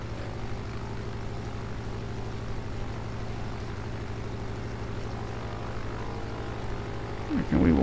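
Warplane engines drone in a steady, layered hum during a World of Warplanes dogfight, holding an even pitch throughout with a brief louder burst near the end.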